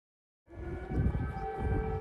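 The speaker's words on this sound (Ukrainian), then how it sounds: "Прогулюватися вулицями Києва президентам довелося під звуки сирен." Air raid sirens wail across Kyiv during a nationwide alert, a steady droning tone with sustained harmonics that starts after a brief silence and holds loud and continuous to the end.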